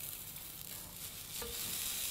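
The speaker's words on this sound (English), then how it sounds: "did you hear the increase in sizzle then?" Bacon rashers sizzle in a hot Bacon Master press, a steady close hiss and crackle that grows slightly louder toward the end.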